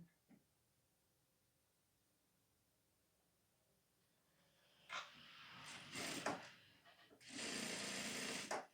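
A sewing machine stitches folded blouse fabric in two bursts of rapid whirring after a long quiet stretch, the second burst longer and steady, with no talk.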